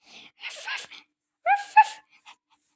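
A small dog whimpers and yips in two short bursts of high, wavering cries separated by a pause, close and fairly loud in an otherwise quiet room.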